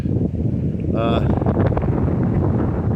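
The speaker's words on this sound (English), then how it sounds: "Oh, it's a little windy." Steady gusty wind buffets the microphone outdoors on a sunny day along the Aurora to Lawrenceburg bike trail, a continuous broad rumble with brief rustling; no clear words spoken.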